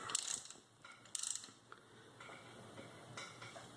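A ratchet wrench with a 14 mm socket tightens a timing belt tensioner bolt on a 7-bolt 4G63 engine, giving a few quiet, close clicking pawl bursts against faint background hum.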